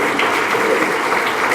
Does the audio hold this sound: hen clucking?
no